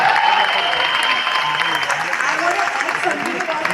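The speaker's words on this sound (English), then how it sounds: "please give a big round of applause" Audience applause at a film trailer launch event, a dense sustained clapping from a sizeable indoor crowd, steady and loud through the whole stretch, with some voices mixed in beneath.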